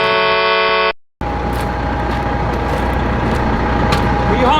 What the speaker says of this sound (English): What are you honking at me for?